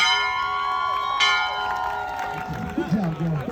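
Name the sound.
graduate ringing a bell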